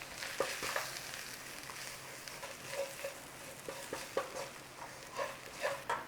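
Flour is stirred through braised steak in a hot pan, giving a steady quiet sizzle with soft scraping and patting stir strokes near the mic and no talk.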